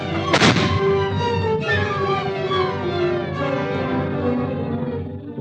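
A gunshot rings out sharply at the start of a classic Hollywood radio drama, then gives way to a sustained orchestral music sting that swells and fades without any talk.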